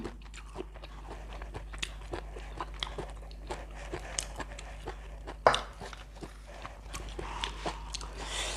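Someone eats jue nuea, a Thai raw beef dish with spicy dipping sauce, giving soft repeated bites and wet chewing close to the microphone over a steady low hum, quiet and without talk.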